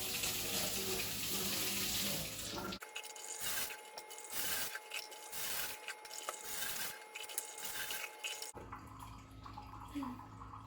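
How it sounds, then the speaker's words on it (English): Eggs washed by hand under a running kitchen tap, a loud steady stream of water with rhythmic splashing and rubbing as the eggs pass through, then the water stops and the room goes quiet. "Then, wash all the eggs."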